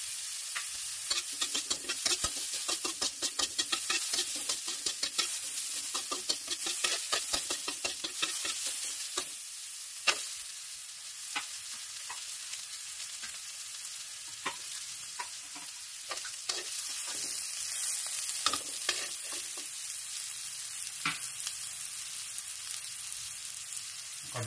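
Garlic sautés in a pan, a steady hiss of sizzling with scraping stirs and clicks of the utensil against the pan running through the whole stretch, close and fairly loud, with no talking.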